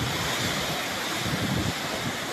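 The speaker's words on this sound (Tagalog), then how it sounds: "Malabo na yung gilid ng ano dahil sa hampas ng alon" Rough sea waves crash and churn in a dense, continuous surging wash, with wind buffeting the microphone and no voices.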